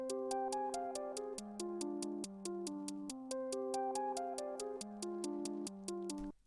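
Crisp, evenly spaced programmed hi-hat ticks in FL Studio repeat quickly over a looping electronic melody and bassline, steady and unchanging until the pattern stops.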